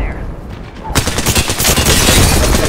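Gunfire erupts in a battle royale video game match, a dense rapid burst of shots starting abruptly after a quieter moment and continuing loud and close.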